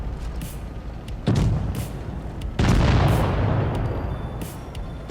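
Tank cannon shots in World of Tanks Blitz, a mobile tank battle game: two heavy booming blasts about a second apart, each with a sharp onset and a lingering rumble over steady low game noise.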